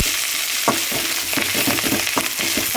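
Fresh agathi leaves sautéing in a little oil in a pan, a close continuous sizzle broken by the scrape and clatter of stirring.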